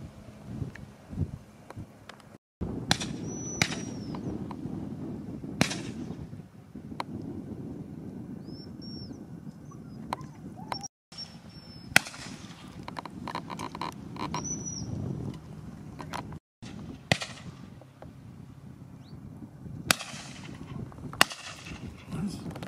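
Shotgun shots ring out at a driven game shoot outdoors, several sharp reports spread irregularly across the scene, some near and loud, others farther off, with faint birdsong and occasional voices in between.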